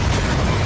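A loud, dense explosion sound effect fills the whole moment as one continuous roaring boom with no pauses, heavy in the low end and sustained throughout.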